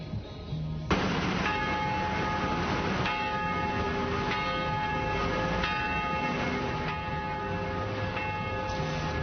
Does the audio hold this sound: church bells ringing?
yes